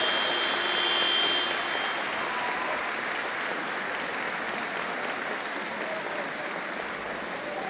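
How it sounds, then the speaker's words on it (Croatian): A basketball arena crowd applauds a Szolnok player in a dense, steady wash of clapping that starts loudest and slowly eases while holding on throughout. "i još jednom aplauz za njega."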